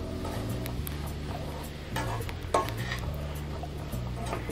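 Chili powder being mixed into bitter gourd thokku in a pan, quiet scraping and occasional clinks of a utensil against the pan over a low steady background hum, with no talking.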